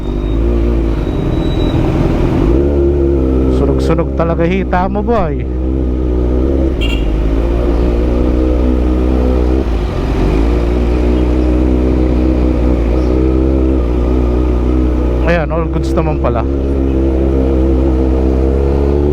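Busy road traffic in Dagupan, with cars and motorcycles passing: a steady, loud engine drone with several rising revs as vehicles accelerate by, while someone talks casually over it.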